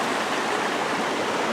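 Water flowing over rocks at a mountain stream crossing in the White Mountains, a close, steady rushing and gurgling that fills the short moment without pause.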